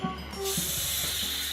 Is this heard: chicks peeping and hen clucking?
no